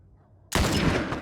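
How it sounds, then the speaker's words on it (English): Gunfire in the video game The Last of Us erupts suddenly after a half-second of near silence, a loud dense burst of shots that keeps rolling and crackling to the end. "They seem to be shooting some other people."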